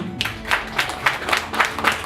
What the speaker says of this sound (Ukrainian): Ваші оплески нашим молодятам.